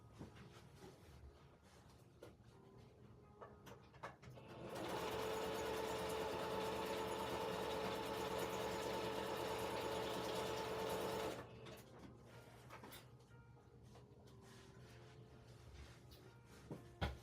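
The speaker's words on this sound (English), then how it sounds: "I'm just gonna run over to the sewing machine and just put a stitch right there" A sewing machine stitches through lace and fabric in one steady, continuous run of about six seconds. It sits between quieter stretches of handling and room noise.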